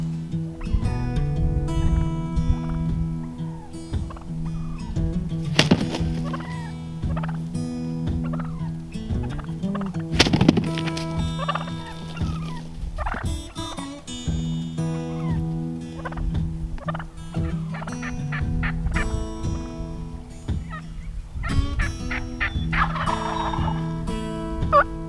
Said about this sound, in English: the turkeys are super fired up this morning